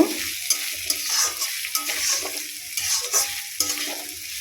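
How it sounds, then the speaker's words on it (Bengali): Sliced banana flower is stirred with a little sugar in a hot pan, giving close, rhythmic scraping strokes over a steady sizzle, with no talking. "নিয়ে খুব সুন্দরভাবে নেড়ে চেড়ে ভেজে নেব।"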